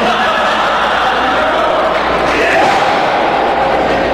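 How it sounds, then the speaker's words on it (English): A wrestling crowd at an SPW show jeers ECW original gangsta Mustafa Saed, a dense, loud and unbroken wall of shouting and booing that holds steady throughout. "Crowd showing no love for Mustafa Saed."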